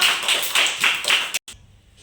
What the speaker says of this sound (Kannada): ಚಪ್ಪಾಳೆ ಹೊಡಿ ಎಲ್ಲರೂ.